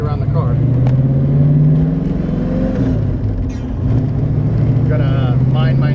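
A 1970 Mustang convertible idles close by with a deep, steady rumble through its new dual exhaust with Mach 1 tips, swelling slightly with throttle while someone talks over it.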